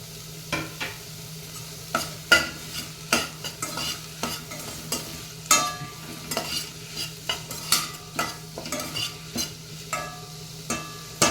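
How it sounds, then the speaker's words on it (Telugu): Carrots stir-fried in a pan, with a spatula scraping and tapping in quick, regular strokes over a low, steady frying hiss, close and alone without talk. "క్యారెట్ ఇవన్నీ వేగినాయి"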